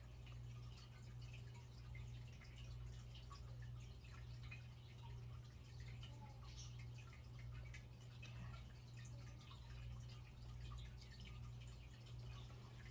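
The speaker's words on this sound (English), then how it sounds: "I let it drip for a little while to make sure I'm getting out all of my wax." Melted soy wax drips steadily from a pouring pitcher into candle containers, a soft continuous trickle over a constant low hum, with no talking.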